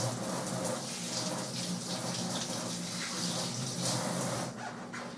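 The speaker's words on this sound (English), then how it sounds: "Let me wash my hands." Tap water runs in a sink during handwashing in a home kitchen, a steady close splashing gush that continues without a break.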